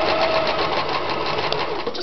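A sewing machine runs steadily in reverse, stitching back over a seam on a pin cushion; a continuous close whirring hum with fine rapid needle clatter and no pauses.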